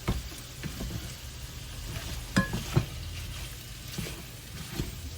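Italian sausage cooking and being stirred in a pan at home, giving a soft steady sizzle with occasional scraping clicks of a utensil, close and fairly quiet with no talking.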